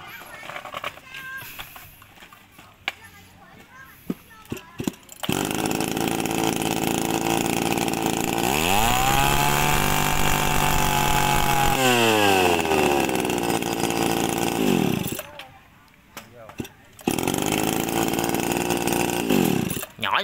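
Tanaka two-stroke brush cutter engine idling with a buzzy rattle, then held at a loud, steady high-revving whine and dropping back, heard close after a person speaks at the start.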